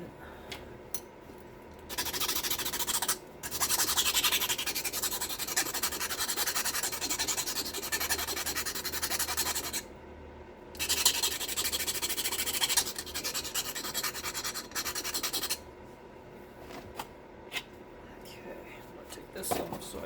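An antler tool is sharpened by hand, rubbing against an abrasive in bursts of close, dry rasping strokes separated by short pauses, while a person speaks quietly underneath.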